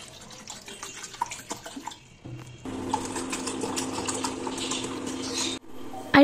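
Water runs into a pot for tea, first in short splashy bursts, then as a steady, moderately loud pour that stops abruptly, followed by a brief clink.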